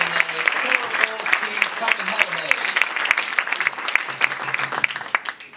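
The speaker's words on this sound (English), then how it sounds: "Finalists, a round of applause for Nelson's Provincial Museum" An awards-ceremony audience applauds museum finalists, steady clapping filling the room while a voice speaks over it.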